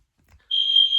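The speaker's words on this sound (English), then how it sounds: "and the fire alarm went off." A building fire alarm lets out a loud, steady, high-pitched electronic tone that starts abruptly after a faint thump and holds continuously.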